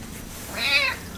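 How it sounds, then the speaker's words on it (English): A large house cat gives a single loud, close meow lasting under half a second, alone with no talk. "This is what is known as a big cat."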